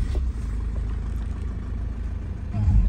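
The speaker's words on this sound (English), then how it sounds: "Let's just start the engine, so it's keyless start" A Lexus IS220D diesel with keyless start settles into a steady low idle, a constant rumbling engine note close by that swells slightly at the very end.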